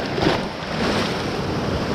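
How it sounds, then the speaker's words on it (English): Waves surge through the wave pool at Blackpool Sandcastle Waterpark in a continuous rushing, churning wash, close and fairly loud, with no voices. "for anyone that is unsure of how high these waves go"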